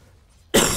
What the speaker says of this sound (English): Just gonna cough a little bit.